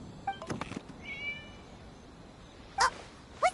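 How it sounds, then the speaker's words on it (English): A cat meows in a video game: a few soft calls early on, then two sharp, clear meows close together near the end, over a quiet background hum. "It was just a cat."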